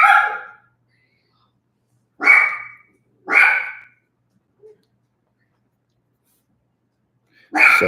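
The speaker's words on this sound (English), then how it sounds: "My dog is barking." A dog gives four sharp, close barks spaced irregularly over several seconds, each short and loud with near silence between, plus a tiny faint sound in one of the gaps.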